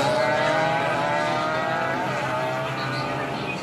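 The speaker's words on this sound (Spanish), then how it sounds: "escuche las motos, el ruido de las motos de los niños" Motorcycles revving loudly on a street during illegal races, a dense, continuous roar of several engines holding steady throughout with no pauses.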